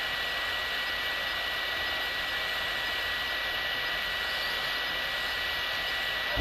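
A helicopter in the Call of Duty Warzone game gives a steady, loud, unbroken rotor and engine roar that holds at the same level throughout with no other sounds above it.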